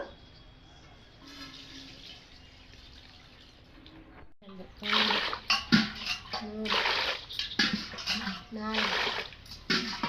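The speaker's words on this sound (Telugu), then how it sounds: "పట్టించిన బియ్యం ఒకసారి కడుక్కుంటే చాలు" Rice is washed by hand in water, with quiet trickling at first and then a run of close, repeated sloshing and splashing bursts. A voice speaks faintly in the background.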